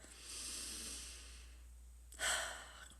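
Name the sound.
deep breath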